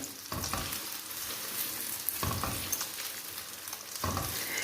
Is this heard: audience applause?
no